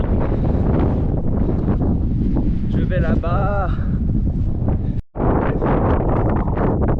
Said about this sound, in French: C'est pas aéro le vent de face.